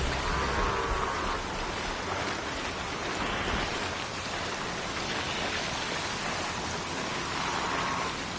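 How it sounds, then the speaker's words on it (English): Rain in a video game: a dense, even wash of falling rain on surfaces, steady and fairly loud throughout with no pauses, alone without voices. "Rain."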